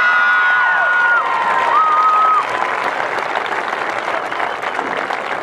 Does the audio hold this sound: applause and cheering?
yes